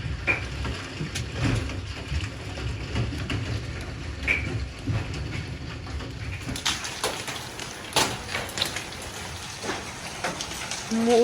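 A hard hailstorm in Japan: ice pellets pelt down in a dense, irregular clatter of impacts, with sharper, louder strikes growing more frequent in the second half.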